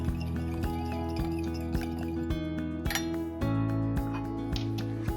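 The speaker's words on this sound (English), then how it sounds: "now just add in 1 tablespoon of sugar and then mix well until dissolved" A spoon clinks steadily against a glass or bowl while sugar is stirred into warm water with yeast, with a quick repeating rhythm of light taps close by and no talking.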